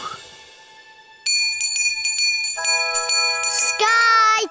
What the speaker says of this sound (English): Bobo, ring bell.